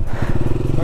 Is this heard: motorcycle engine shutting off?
yes